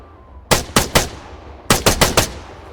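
Gunfire aimed at targets in the video game Arma 3: two loud bursts of three and four sharp shots, separated by a short pause, with no other sounds.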